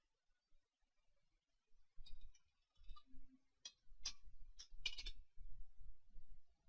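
Computer keyboard typing in a quiet room, sparse bursts of sharp key clicks with short gaps in between, faint and close.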